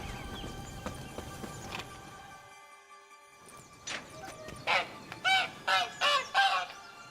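Caged bird in The Witcher 3 honking like a goose, a run of five or six loud, evenly spaced close honks in the latter half after quieter ambient game sounds.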